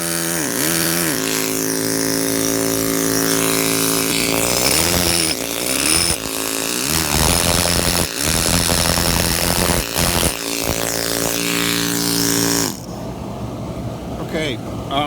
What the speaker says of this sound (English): I'm working with a 1-inch hand machine and just a round chisel.